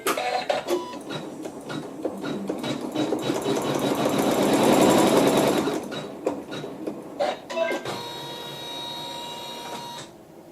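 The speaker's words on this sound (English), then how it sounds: "And go ahead and stitch the seam." A sewing machine stitches a quilt seam in steady mechanical bursts, the run swelling loud in the middle, stopping, then resuming more lightly near the end, close up with no talking.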